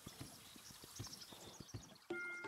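Clip-clopping hooves of a donkey in the video game Kingdom Two Crowns trot in a steady, quiet rhythm over game ambience, ending with a brighter chime-like tone as the steps stop.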